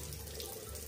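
Tap water runs at a sink for face washing, a brief, soft, steady rush of flowing water.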